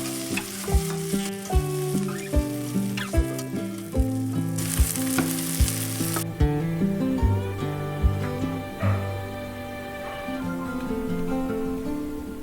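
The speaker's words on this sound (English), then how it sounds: "And it was finally time to fry the hash." Hobbit hash of vegetables and spinach frying in a pan, a steady sizzle under repeated stirring and scraping knocks, close and fairly loud, with no talking.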